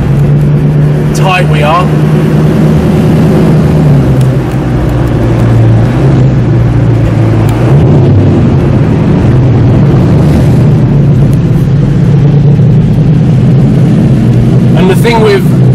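An Audi R8 supercar fitted with a loud Armytrix exhaust booms and drones heavily throughout, its deep engine note rising and falling as it drives, with brief sharp crackles near the start and end while a person speaks briefly.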